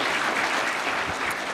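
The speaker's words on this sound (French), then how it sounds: "On peut l'applaudir." A conference audience at a cybersecurity event breaks into applause, a dense, steady wash of many hands clapping at once, loud and continuous for the whole stretch with no voices over it.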